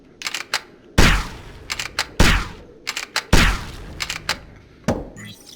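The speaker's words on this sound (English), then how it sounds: "A shotgun, an automatic shotgun." Automatic shotgun firing in the VR sandbox game Modbox: four loud, sharp blasts spaced roughly a second apart, each with a quick decaying tail, and lighter mechanical clicks and clacks in between.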